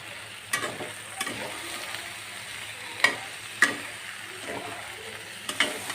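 Ginger-garlic paste with bay leaves sizzling and being stirred in a pan for a chicken kosha curry, a steady fry hiss broken by several sharp spoon scrapes and clinks against the metal.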